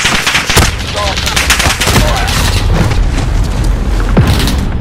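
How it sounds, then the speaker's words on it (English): Bomb blasts and rapid gunfire in the battle game Warzone, loud and continuous, with booming impacts and bursts of automatic fire packed closely throughout. "Detonate bombs to stoke the flames."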